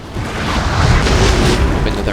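Heavy cannon fire from a Napoleonic battle at Austerlitz in Napoleon Total War, loud rumbling booms that roll together into a sustained, close blast.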